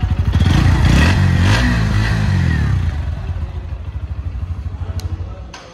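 A 2024 Bajaj Pulsar NS 125 motorcycle engine revs up sharply, then settles back to a throbbing, pulsing idle; loud and close, with a brief clatter near the end.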